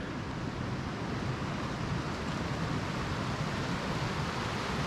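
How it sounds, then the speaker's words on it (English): Steady broadband surf from the ocean along the Icelandic coast near a glacier, a continuous outdoor wash with wind rushing across the microphone and no distinct breaking peaks. "That's the ocean."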